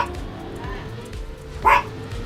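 A single dog yips once near the middle of the clip, a short sharp bark rising over background game sounds and faint room noise.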